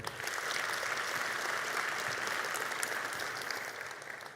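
A graduation audience claps for a wind and percussion ensemble, a steady, dense round of applause filling a large room for several seconds and tapering slightly at the end.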